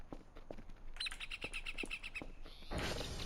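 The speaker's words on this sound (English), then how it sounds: "I do like being able to hear the birds." Several birds chirp and tweet in a row of bright, quick calls inside the video game Voices of the Void, set against a faint ambient hum, with a soft rushing wash at the end.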